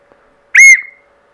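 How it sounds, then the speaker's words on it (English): A Peppa Pig plastic toy whistle gives one short, loud, shrill blast up close, sliding slightly, set against near silence. "whistle."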